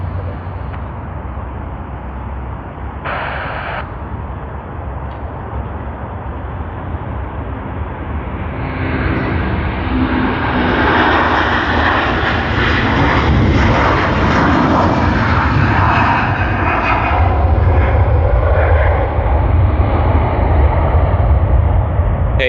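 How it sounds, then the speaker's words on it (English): Philippine Airlines airliner on its takeoff roll down runway 34 at Sydney Airport, a steady broadband engine roar that swells louder and fuller midway and holds strong to the end, with no talk. "Philippine Airlines PR212 has begun its takeoff roll on runway 34 for its flight to Manila."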